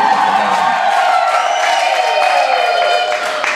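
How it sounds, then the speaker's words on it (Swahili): Wedding guests ululate in shrill, wavering trills over steady crowd applause and cheering. The sound is loud and continuous throughout, easing slightly at the end. "Vigelegele na makofi"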